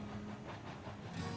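A train hauling a load of lumber rolls over the rails toward a storage yard switch, a steady close rumble and hiss with faint clacking and no pauses.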